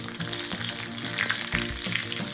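Curry leaves sizzle and spit in hot oil in a kadhai on a gas stove while tempering, a steady close crackling hiss with brief pops throughout.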